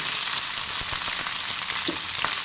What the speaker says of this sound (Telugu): ఇదంతా నూనెలోనే బాగా టమోటా బాగా మగ్గాలి